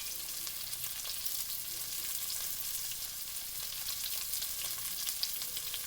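Spicy squirrel legs frying in a pan, giving a steady, dense sizzle and crackle close by with scattered pops, and no talking.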